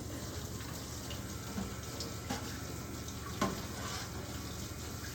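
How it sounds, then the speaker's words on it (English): Tap water runs steadily from a faucet into a kitchen sink during dishwashing, a constant close splashing hiss with a few faint clunks and no talking. "Move the faucet over to the other side so that you don't fill up your sink more"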